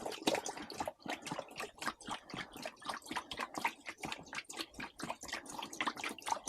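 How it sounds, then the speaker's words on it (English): Tank cleaning liquid glugs and splashes as it is poured from a container into an RV holding tank, a continuous close trickling and gurgling that is fairly quiet. "I'm going to flush this one, or not flush, but just pour the stuff in here"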